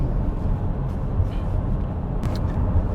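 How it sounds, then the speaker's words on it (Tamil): A car overtaking on a road, a steady low rumble of passing traffic with a brief swell, heard from nearby with no talk. "அவன் ஒருத்தன் ஓவர்டேக் பண்ணி கொண்டு போகிறான்"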